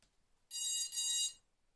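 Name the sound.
quadcopter control board beeping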